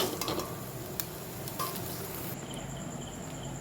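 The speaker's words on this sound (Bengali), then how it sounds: "এভাবেই নেড়ে চেড়ে আলুটা ভেজে নিতে হবে" Potatoes frying with poppy seeds in a pan, with a quiet steady sizzle and a few faint scrapes of stirring, low in level throughout.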